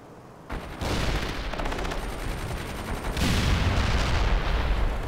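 Dense bursts of gunfire and rocket fire from the game World in Conflict, starting after a short quiet lead-in and then continuing as a loud, sustained barrage of rapid shots and booming blasts.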